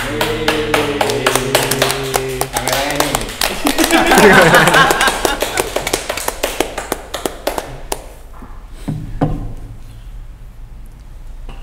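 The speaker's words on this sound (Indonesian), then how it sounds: "Kita sambut mereka bertiga dengan tepuk tangan" A crowd claps to welcome three cyclists at a group ride, crisp hand claps repeating close and fairly evenly while people talk over and between them, then thinning out toward the end.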